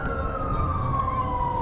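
Fire engine siren from a fire department truck passing in a city opening day parade, a loud continuous wail sliding slowly downward in pitch, steady and close with engine rumble beneath.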